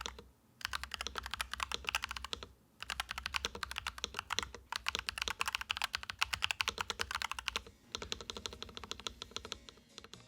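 Fast, continuous clacking of keys on a custom-modded mechanical keyboard, close and crisp, with a couple of short pauses between bursts of typing.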